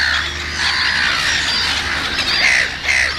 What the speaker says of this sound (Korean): 붉은 부리 갈매기 군락 근처에 공이 떨어졌을 경우엔 녀석들이 퍼붓는 온갖 시끄러운 비난을 감수해야 할 겁니다